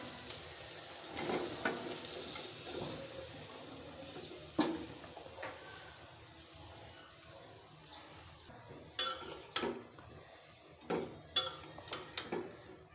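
Cauliflower tipped into a pan where katla fish was just fried, giving a soft sizzle with scattered clinks of a utensil against the pan, sharper knocks toward the end, and no voices.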